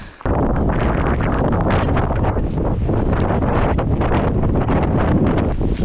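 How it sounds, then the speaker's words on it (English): Powerful wind blasts across the microphone on the open, treeless upper slopes of Mount Keen, in a constant loud roar, gusting and rumbling without letup after a short quiet opening. "I never realised how windy it was until we left the forest."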